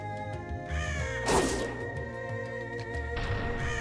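Crows caw several times in the vampire game ScarCur, harsh and fairly close, over a steady sustained music drone, with a brief noisy burst partway through.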